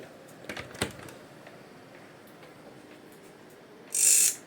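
Speaker protection relay on an amplifier circuit board switching on: a few small, sharp mechanical clicks early, then quiet room hiss and a short, loud high-pitched beep near the end.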